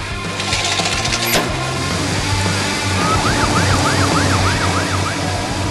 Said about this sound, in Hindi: पुलिस की सायरन गूंजती है